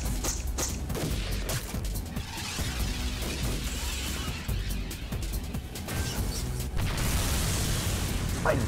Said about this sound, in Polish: Fajne takie wybuchowe strzałki